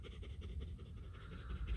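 A dog pants rapidly and steadily at close range, quick rhythmic breaths running without a break, heard outdoors on a mushroom-foraging walk in July.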